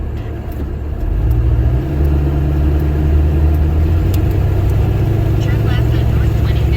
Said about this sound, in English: This car is old-fashioned straight-piped, so it's not the best sounding.